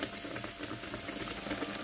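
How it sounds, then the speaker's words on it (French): Stuffed sandwich bread, filled with sausage or chicken, fries in very hot oil, giving a soft, steady bubbling sizzle that stays faint and even throughout, with no talking. "maintenant nous pouvons passer à la friture. Et il faudrait vraiment que l'huile soit bien chaude"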